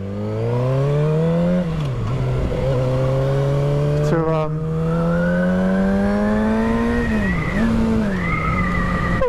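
A Suzuki GSX-R 750 motorcycle engine pulls while riding, its tone climbing steadily through the revs, dipping briefly with throttle changes and a sharp gear shift, then rising again, loud and close with wind noise underneath.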